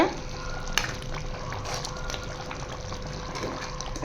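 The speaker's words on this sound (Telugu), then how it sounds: "చూడండి ఎలా మగ్గుతుందో" Curry simmering in a pan, a steady soft bubbling and faint sizzling with light stirring scrapes, continuous and close, with no talk.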